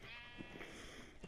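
Colored sheep in a Minecraft survival world bleat in a single quiet, drawn-out call, heard alone without talk.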